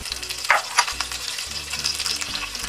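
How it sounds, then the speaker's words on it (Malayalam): Curry leaves sizzle in hot coconut oil in a pan: a steady, close crackling fry with a few sharp pops and light clinks of a utensil, with no voices. "ഇനി അതേ പാത്രത്തിൽ അതേ വെളിച്ചെണ്ണയിൽ നമുക്ക് കറിവേപ്പില ഇട്ട്,"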